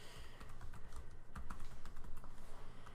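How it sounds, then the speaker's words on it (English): Rapid clicking of a computer keyboard, a steady run of close, faint keystrokes without talk. "so I can keep typing"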